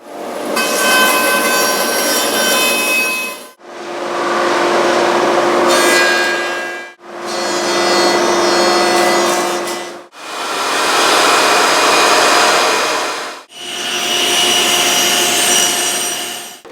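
A saw rips shop-sawn veneer from solid wood, ash or walnut, in five long strokes of steady, loud, broadband rasping separated by brief pauses, with no talk.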